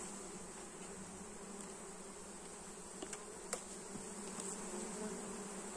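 A honeybee swarm drones at a hive, a dense, steady buzzing that stays close and continuous, with a few individual bees passing by, no voices.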